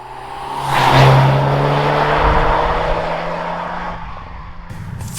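A Volkswagen Arteon R Shooting Brake engine revs up and holds a steady drone as the car drives on the road, with road and wind noise, fading slightly toward the end.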